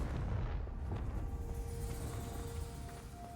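Confringo fire spell exploding in Hogwarts Legacy, a heavy low rumbling blast that stays loud and fills the whole stretch before slowly fading, with a faint tonal hum beneath it.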